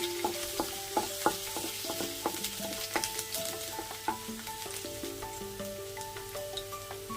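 Finely chopped ginger and garlic stir-fry for a steamed veg momo filling, making a soft crackling sizzle with repeated light scraping clicks, quiet and close, over faint tonal background music.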